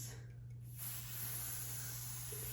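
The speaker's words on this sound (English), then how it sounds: "I am gonna use some Got To Be Glue spray. So I'm just gonna spray that" Got To Be Glue spray mists onto wig lace with a soft, steady hiss that carries on over a constant electrical hum, fairly faint and close, with no talking.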